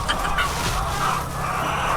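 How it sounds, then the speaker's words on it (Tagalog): Chickens on a poultry farm cluck and murmur close by in a steady mixed chorus, with a low background hum underneath and no talking. "Ito pala yung mga manok."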